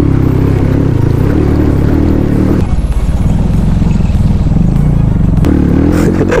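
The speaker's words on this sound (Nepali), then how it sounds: "द्याट्स माई बाइक, मेरो साथीले चलाइरहेको छ त्यहाँ" A motorcycle rides off-road on a rough Upper Mustang trail between Marpha and the upper valley, its engine droning loud and steady with clattering and scraping from the rough ground throughout.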